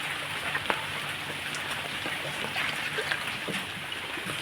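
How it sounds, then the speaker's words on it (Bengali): A thin sugar syrup for rasgulla boils hard in a pot, a steady, close bubbling roar dotted with small pops and splashes that holds level throughout, with no talking. "চিনি জলটা জাল দিয়ে একদম টকবক করে সেরাটা ফুটিয়ে নিব"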